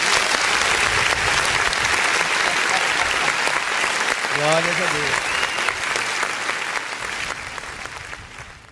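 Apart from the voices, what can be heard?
church congregation applauding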